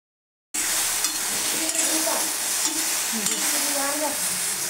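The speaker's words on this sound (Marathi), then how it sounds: "भेंडी परतताना आपल्याला कंटिन्युअसली हलवून घ्यायचं" After a brief silence, okra sautés in a pan with a continuous close hiss and crackle as it is stirred, with soft scraping and light knocks under the sizzle.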